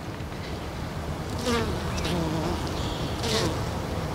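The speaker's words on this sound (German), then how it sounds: "Aber Bienenflug ist ordentlich vorhanden." Honeybees flying around a hive, a continuous soft buzz with several individual bees droning close past the microphone in brief louder swells.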